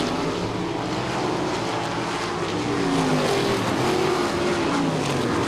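ASCS sprint cars race around the Salina Speedway dirt track, several engines roaring together at a steady high pitch with whining revs rising and falling as cars slide through a turn, loud and continuous.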